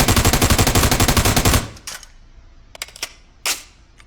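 An M4 rifle fired from the prone position lets off a rapid, even burst of loud shots for about a second and a half. A few sharper single clicks and clacks follow in the quieter stretch after it.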